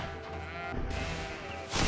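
Goat bleating in the video game GreedFall, one sustained wavering bleat close up lasting about a second, followed by a sharp noisy burst at the end.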